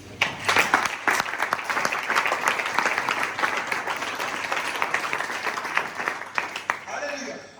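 A church congregation breaks into sustained applause, loud and close, with bursts of cheering and voices mixed into the clapping before it thins toward the end.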